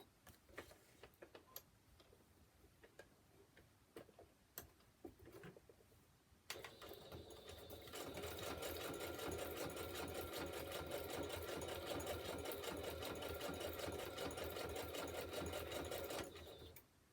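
A sewing machine stitches a zigzag while finishing a tag for a loaded-pocket craft project, starting with a few faint clicks, then running in a loud, steady rapid whir of needle strokes for about nine seconds before stopping.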